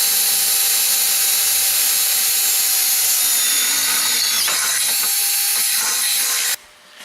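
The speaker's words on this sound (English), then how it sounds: "you're going to go ahead and drill that out to the same size as your bolt" A power drill bores out a bolt hole in a homemade Jeep tube door, a loud continuous whine with a shifting pitch that cuts off abruptly near the end.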